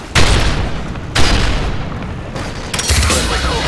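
Flashbang grenade exploding in a Modern Warfare 3 Search and Destroy multiplayer match, a series of loud booming blasts with rumbling bursts, close and dense game combat noise throughout.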